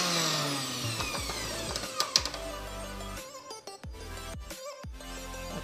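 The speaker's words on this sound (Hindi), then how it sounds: "तो चलिए अब इसको ग्राइंड कर लेते हैं।" A kitchen mixer grinder blends a chutney of green chilies and red chili powder. Its loud, whining motor roars for a few seconds, then winds down into quieter rattles and clicks.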